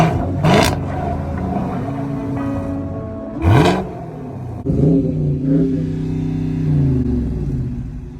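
Muscle car engines, Challenger, Camaro and Mustang, rev hard on a night out, with sharp throttle blips and roaring sweeps up and down, loud and close, some overlapping.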